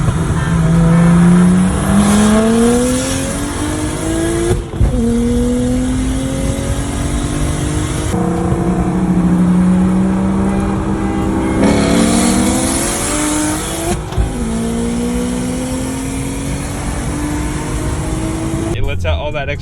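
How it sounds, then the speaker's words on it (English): A BMW N54 with a Speedtech single turbo and open dump wastegate gives loud repeated rising pulls, each climbing in pitch, then a sharp cut and whoosh between gears, with talk over the engine. "Lets out all that extra wastegate pressure out of the dump tube instead of going through an exhaust"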